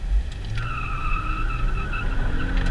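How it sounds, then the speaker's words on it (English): Acura TL tires squealing as they burn rubber under hard acceleration, a sustained high-pitched screech over loud engine roar, heard from inside the car. "That bitch is burning rubber."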